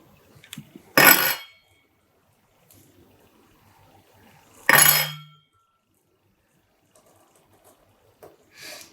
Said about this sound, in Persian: قاشق ها را بدون از اینکه پیاله ها را در گوشم قرار بدم با میز تصادم میدم